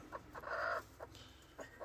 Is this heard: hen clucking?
yes